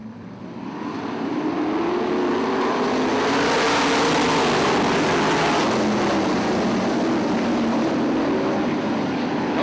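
410 sprint cars racing around the Ionia Raceway Park oval in a heat race, a loud continuous engine roar from a pack of cars swelling in and holding steady, heard from the grandstand.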